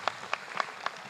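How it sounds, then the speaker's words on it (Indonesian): A short burst of applause from an audience, sharp claps landing in a loose rhythm at moderate distance, with no speech over them. "Aplaus dulu untuk kita semuanya"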